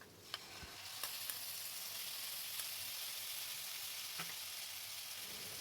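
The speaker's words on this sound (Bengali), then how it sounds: "মশলাটাকে ধীরে ধীরে আলুর সাথে ফ্রাই করে নিচ্ছি।" Spice paste with potatoes frying in a wok gives off a soft, steady sizzle after a few light stirring taps, fairly quiet and without any voices.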